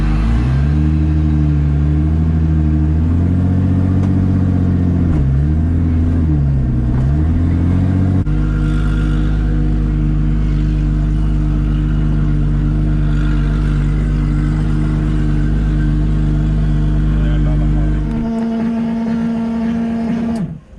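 A Supra's engine, running on an E90 fuel mix, idles loudly and close, with a few revs near the start before settling into a steady rumble that drops away at the end.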